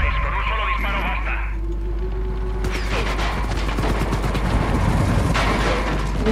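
Rapid bursts of gunfire crackle continuously through a busy Far Cry 5 game soundscape, with a voice talking early on before the shooting thickens.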